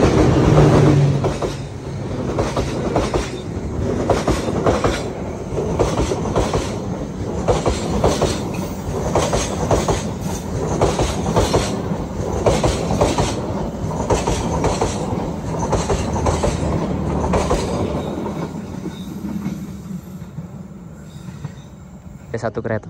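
Onboard KA Serayu passenger train in Indonesia as it crosses another train at Cirahayu on the southern line: steady loud rumble of wheels and carriage noise with rhythmic clatter throughout, easing near the end, with faint talk in the background.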